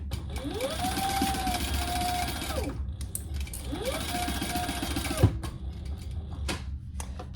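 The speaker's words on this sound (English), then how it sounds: "I'm just gonna chain stitch this stuff" A sewing machine chain stitches a handbag in two long runs, each rising to a steady whir and winding back down, with a sharp click between them and quieter handling afterward.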